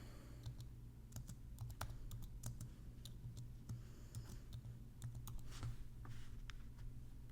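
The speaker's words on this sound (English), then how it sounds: "So now I'm going to type out my text" Keys clacking on a computer keyboard as text is typed for a Halloween Mickey T-shirt design, an irregular run of quiet, close clicks over a low steady hum, with no talking.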